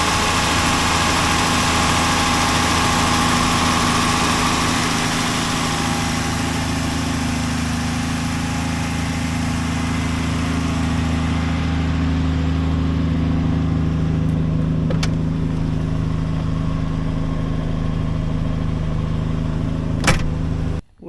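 A 1967 Plymouth Valiant 100 idles steadily up close, its low, even engine hum settling slightly calmer over time before a brief sharp sound at the very end.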